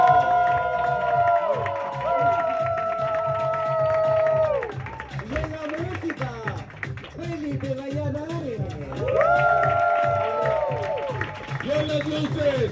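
Audience at an improv comedy show claps and cheers in a steady crowd roar, with voices and tonal sounds layered over the applause throughout.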